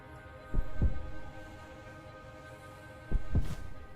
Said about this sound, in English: They increased the audio of the heartbeat